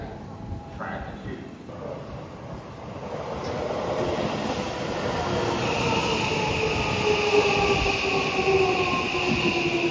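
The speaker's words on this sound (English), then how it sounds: "The local train bound for Plein is arriving at track 2." A local commuter train pulls into a Tokyo station, its rumble building steadily with a high, drawn-out wheel squeal and clatter rising over several seconds, loud and close.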